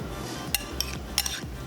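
A utensil mixes an olive, fresh lemon juice, salt and pepper marinade in a dish, making a few light clinks and soft scrapes close by.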